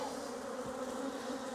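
A swarm of honeybees on a Portugal farm buzzes steadily around a novice beekeeper, a continuous, even, fairly faint drone with no talking.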